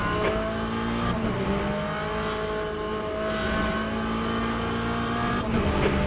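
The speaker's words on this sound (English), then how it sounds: "Car is sliding all over the place." Race car in Le Mans Ultimate at Spa, its engine loud and continuous with layered tonal whine and faint tire scrub as it slides, steady from start to finish without speech.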